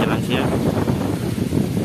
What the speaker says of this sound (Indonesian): angin cukup kencang, ombak cukup besar